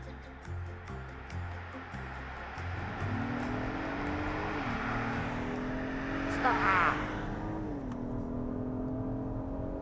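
A 2022 Acura MDX SH-AWD engine revs in sport mode with traction control off, a faint rising and falling tone heard from inside the cabin, with voices talking over it.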